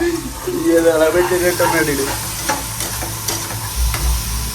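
Cumin seeds sizzle in hot oil in a pan for tomato upma, a steady loud frying hiss with stirring scrapes throughout while people talk over it.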